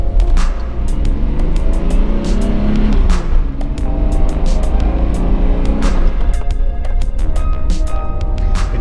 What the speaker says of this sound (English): It's got those road noises, you know, that it would usually have, but they actually do sound muffled.